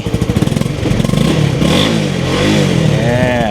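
A motorcycle engine idles with a rapid putter, then revs up and holds a rising, rough roar, loud and close.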